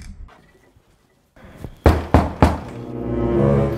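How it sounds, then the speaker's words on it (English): Three firm knocks on a door at a house sound close and loud in a fairly quick sequence after a quiet stretch. A voice starts to rise just as they end. "You're already inside and you are knocking."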